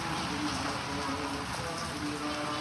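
Steady rain falls continuously, a dense even hiss of drops with no voices and no pauses.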